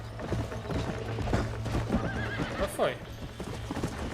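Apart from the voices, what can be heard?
horse galloping and neighing in the video game Red Dead Redemption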